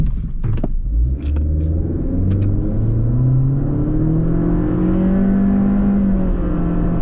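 A 2023 Honda Accord non-hybrid with a CVT accelerates hard in a timed run, its engine droning loud and close with a smoothly rising whine and rumble that climbs steadily without gear-shift breaks.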